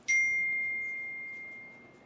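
A single bright ding rings out during a live sports card box-break stream, the clean tone struck once and then slowly fading over about two seconds, with no talk over it.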